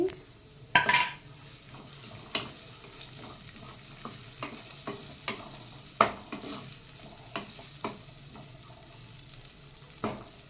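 Chopped onion sizzles and fries in hot oil in a clay pot for a chicken curry, with a steady crackle under repeated scraping stirs and a few sharper clinks of the utensil against the pot.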